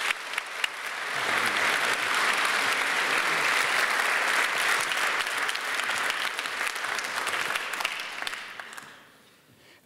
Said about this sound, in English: I would like to ask the audience to give a round of applause for Hans and Gine